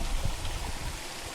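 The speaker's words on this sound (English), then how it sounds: "It's the other side of the waterfall." A waterfall beside a lake gives a steady, full rushing wash of water, close by and continuous with no voices.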